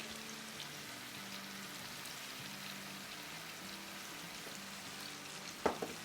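Chicken for biryani fries in a pan with fried onions and yogurt, giving a quiet, steady sizzle with a soft stirring clatter near the end; no one speaks.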